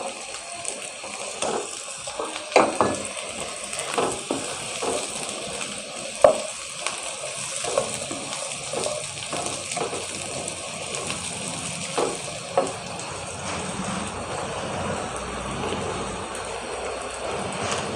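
Cabbage and cauliflower frying in a pan for a mixed vegetable dish: a continuous sizzling crackle with periodic scraping and stirring knocks, close up and without speech.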